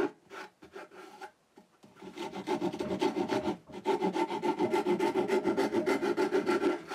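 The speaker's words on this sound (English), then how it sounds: "I use a rounded rasp to remove more material to carry on the curve." Rounded rasp filing a curve into reclaimed wood for a serving tray, a few hesitant scrapes and then rapid continuous back-and-forth rasping, close and loud.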